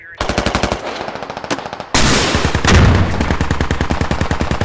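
Rapid automatic gunfire from a BTR armored vehicle in the Squad video game, a steady loud burst of closely spaced shots that pauses briefly, then resumes heavier and denser with a deep boom, continuing to the end.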